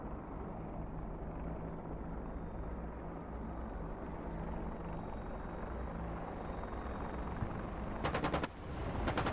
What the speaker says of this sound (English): watch Gunship 1 tip in for the engagement with the cannon